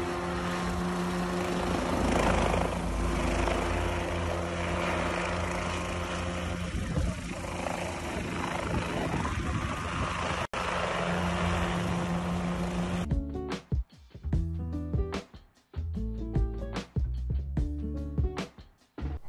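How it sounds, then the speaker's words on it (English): A helicopter hovers low overhead, its rotor wash blowing leaves being swept: a loud, steady broadband rotor roar for about thirteen seconds, then choppier, pulsing bursts as it shifts. "A helicopter pilot saw this person sweeping leaves and decided to help out."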